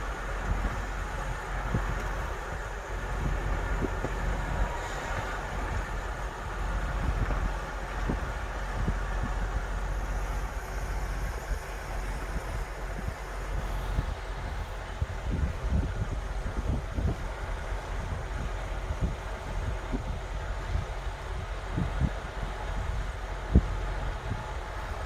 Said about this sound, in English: They got the tree limbs whipping in the wind.